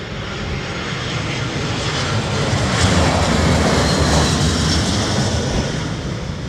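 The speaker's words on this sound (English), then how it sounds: "Max Kaminsky, Singapore going on the other runway" Singapore Airlines airliner rolling on a runway at London Heathrow, a loud, steady broadband jet roar that swells slightly mid-way and holds throughout, with no talk over it.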